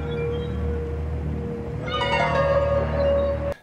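A cat meows repeatedly over a steady low engine-room hum aboard a yacht in a 1988 film, the cries rising clearly in the second half and cutting off abruptly at the end.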